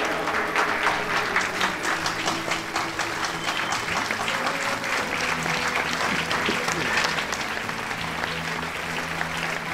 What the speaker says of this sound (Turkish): Pembe Hanım için kocaman bir alkış rica ediyorum.